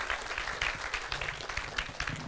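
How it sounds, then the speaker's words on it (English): Warm applause from a conference audience after a C++ mobile application talk, a sustained even patter of many hands clapping together at moderate volume, with no voices over it. "Yes, yes, warm applause."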